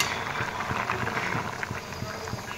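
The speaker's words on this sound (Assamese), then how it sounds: "হাই ফ্লেমত দিলোঁ এয়া মই প্ৰায় 20 মিনিট সময় ভালদৰে উতলিব দি দিলোঁ" Local chicken curry cooked without oil boils hard in a pot over a high gas flame, giving a steady, dense bubbling hiss with soft pops throughout.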